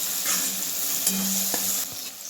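Tomato masala with turmeric, asafoetida and coriander powder sizzles steadily in a pan while a spoon stirs and scrapes through it, close and fairly loud with no voices.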